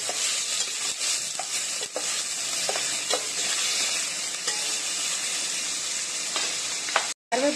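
Two medium chopped onions sauté and sizzle in a pan for a spicy crab gravy, giving a steady frying hiss broken by repeated scraping strokes of a stirring spoon, close and loud, with no talking.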